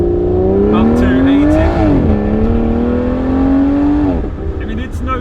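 A sports car's engine revs hard under acceleration, pitch climbing steadily, briefly dropping at a gear change, then climbing again, loud and close from inside the cabin.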